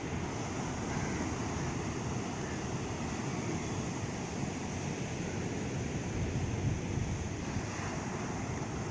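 Early-morning ocean surf on Pondicherry beach, a broad continuous roar of breaking waves mixed with wind buffeting the microphone, steady and loud throughout with no voices.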